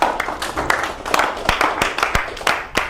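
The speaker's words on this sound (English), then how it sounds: "Clap it up for Ben, y'all." An audience claps for Ben at a talk, a dense patter of close hand claps filling the room steadily, with sharper individual claps standing out.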